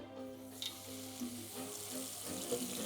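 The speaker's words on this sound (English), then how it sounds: "I'm just going to get this and rinse it under cold water." A hot cake pan held under cold running tap water at a kitchen sink, a continuous steady rush of water with a faint hiss and sizzle where it hits the metal.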